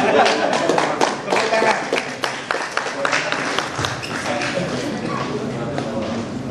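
Audience applause at a lecture hall event in Jakarta, a dense patter of many hands clapping mixed with ongoing talk, fading slightly toward the end.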